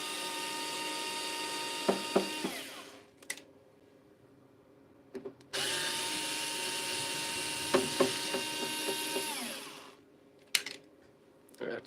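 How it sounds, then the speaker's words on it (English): A power screwdriver removes screws from the top cover of a solar hybrid inverter, whirring in two long runs with short bursts, clicks and taps in between, close and fairly loud with no talking. "I'm just removing the top screws, the top core screws."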